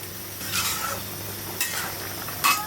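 Hilsa fish curry simmers and sizzles in a pan after a splash of mustard oil, a steady low bubbling hiss under three brief scraping stirs.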